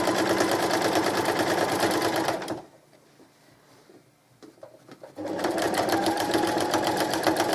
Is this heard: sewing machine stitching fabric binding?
yes